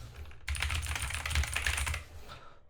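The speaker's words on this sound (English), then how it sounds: "That's just a keyboard with lights, really" Fingers type quickly on a backlit computer keyboard, a close, dense burst of key clicks that starts abruptly and stops after a second and a half.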